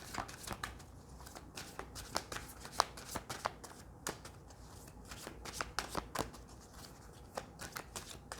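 Tarot cards being shuffled by hand, a steady run of crisp riffling snaps and soft slides close up, with no talking over them.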